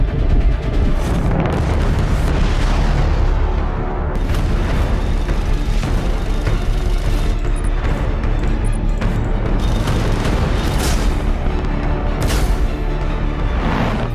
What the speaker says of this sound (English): Drummer fires missiles at the other ships. Now they are firing on each other. Another great space battle ensues.